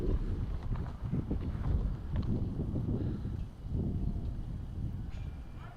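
Wind gusting across an open golf course during a round, a steady broadband rush and buffeting against the microphone that swells and eases without letting up.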